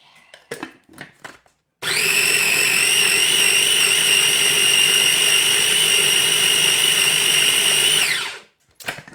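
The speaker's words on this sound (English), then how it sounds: "Let's blend it up." A kitchen blender whirs steadily for about six seconds, blending avocado mayo with honey, its motor whine loud and even before cutting off, with a few soft clatters of handling at either end.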